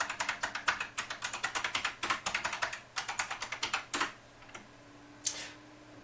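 Quick, rhythmic clatter of fingers on a computer keyboard while writing Erlang code for a chess program, close and clear in steady runs of keystrokes, then a pause with a couple of final taps.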